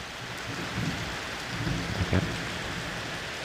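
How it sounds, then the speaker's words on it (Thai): Steady night rain hiss with a low, soft rumble of distant thunder rolling underneath, faint and drawn out. "เริ่มมีเสียงฟ้าคำราม"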